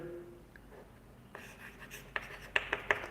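Handwriting on a board or paper while working through a related-rates derivatives problem: faint scratching builds into several sharper taps and strokes toward the end, quiet and close.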